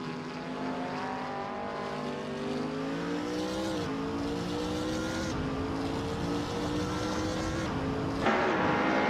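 Race cars in a racing game scream past one another while overtaking, layered engine whines rising and shifting in pitch with gear changes, loud and continuous, with a sharper burst near the end.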